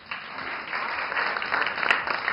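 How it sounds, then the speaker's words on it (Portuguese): A studio audience applauds during a podcast recording, a steady broadband wash of clapping that swells slightly and holds, with no talk over it. "Eu quero aplausos."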